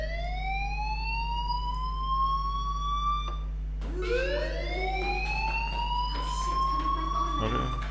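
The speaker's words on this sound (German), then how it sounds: "do you hear that fire alarm?" A school fire alarm in the video game Life is Strange wails loudly, sweeping upward in repeated rising tones over a constant low hum.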